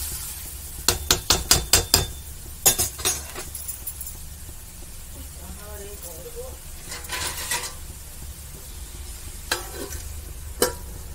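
Tomatoes simmering for a sweet chutney, stirred now and then: a quick run of sharp spoon clinks against the pot, then softer scraping and bubbling, with a few more clinks near the end.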